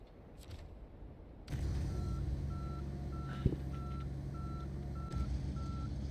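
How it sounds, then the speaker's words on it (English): Truck reversing beeper in SnowRunner, a steady series of regular electronic beeps over a low idling engine rumble, with a brief clunk midway. "Sorry about that backup beeper."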